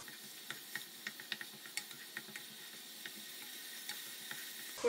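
Tomato rasam with added tamarind water coming to a boil in a pot, a soft steady bubbling sizzle punctuated by small distinct pops and crackles, close and fairly quiet, with no talking.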